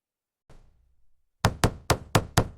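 Five sharp hammer knocks in a steady rhythm, close and loud, follow a faint brief rustle in a garage repair setting.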